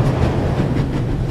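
A train in the video game The Raven Remastered runs at full speed, a dense continuous rumble and rolling clatter carrying steadily up close, with no voices.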